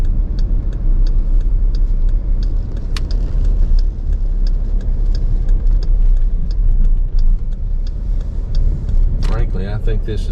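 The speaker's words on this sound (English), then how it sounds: "Just take a look as we're driving around, getting ready to pull in the Forest Park." Car cruising through St. Louis toward Forest Park, a steady loud interior rumble of road and engine noise with faint ticking, continuing for about ten seconds with a voice briefly near the end.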